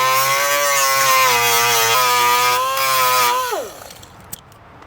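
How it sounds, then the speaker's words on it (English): A power grinder runs loud and steady against the metal body of a barn-find Chevelle, its whine holding for about three and a half seconds before spinning down and fading out. "I'm probably going to have to take it and grind it right there."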